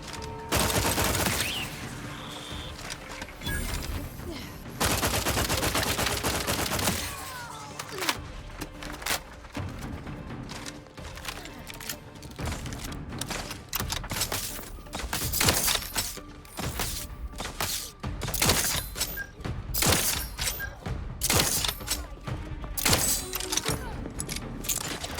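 Rapid bursts of gunfire in the video game The Outer Worlds 2, dense volleys of sharp cracks and clatters with brief pauses between fusillades, loud and close, with faint talk underneath.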